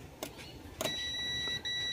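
A shrill electronic tester buzzer sounds during a Samsung LED TV panel repair, holds for a moment, breaks off briefly, then resumes as a steady high beep over faint clicks.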